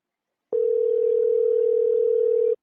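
A steady telephone dial tone starts suddenly about half a second in and holds unbroken, loud and clean, until it cuts off near the end, with no talking over it.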